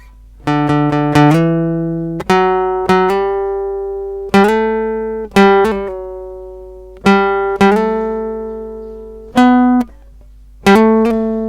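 A clean electric guitar plays a solo phrase of repeated short note groups, each plucked cluster ringing briefly before the next, with no voices.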